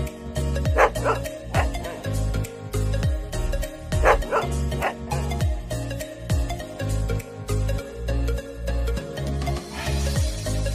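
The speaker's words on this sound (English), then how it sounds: "Dog." A dog barks again and again in sharp, yappy bursts with some whimpering yips, loud and close, mixed over a steady musical backing track.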